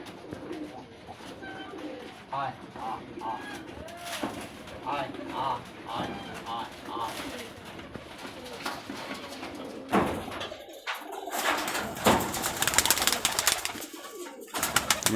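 Local high flyer pigeons in Rajshahi coo in soft repeated phrases nearby, while someone talks over them and a few sharper knocks and rattles break in toward the end.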